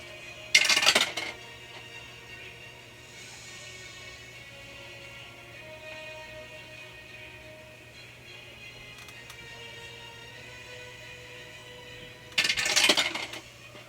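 Six-sided hit dice clatter onto a table in two short, sharp bursts at the start and end, with a quiet tabletop-game room hum between them.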